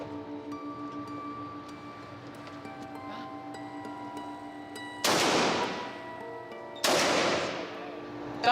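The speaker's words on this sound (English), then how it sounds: "That is a rifle being shot." Two loud, sharp rifle shots ring out a couple of seconds apart, each with a long decaying tail, over a steady background hum.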